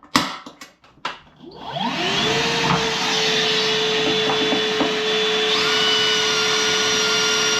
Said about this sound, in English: let's get a drill bit and start getting this thing mounted in